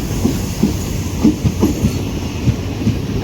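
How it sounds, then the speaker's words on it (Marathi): Tutari Express passenger train pulling into a station platform, a steady rumble of wheels with rhythmic clickety-clack beats at roughly even intervals, fairly loud and close, with no talk over it. "अशा प्रकारे ट्रेन आली आहे"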